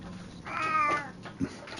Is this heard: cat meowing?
yes